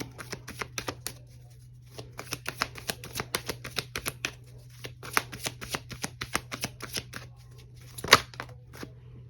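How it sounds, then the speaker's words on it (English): Cards drawn and flicked from a pile, a run of quick crisp paper snaps and slides close by, irregular in rhythm with a sharper slap near the end, over a low steady hum. "Let me pull from this pile of cards."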